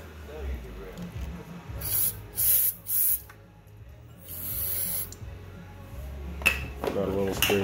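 Several short, sharp hissing sprays of starting fluid from an aerosol can into a 1965 Moto-Ski snowmobile carburetor, close by, separated by pauses, with some handling noise and brief talk.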